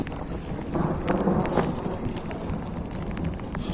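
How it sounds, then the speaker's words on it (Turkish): Steady rain pours down on a highland pasture with a dense, continuous wash of noise, a low rumble underneath, and no talking. "hava iyi yağdı. 10 dakika yağdı."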